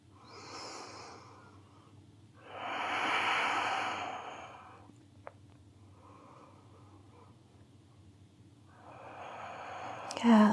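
Slow, deep yoga breaths come as long audible inhales and exhales, close and soft, spaced several seconds apart in a quiet room.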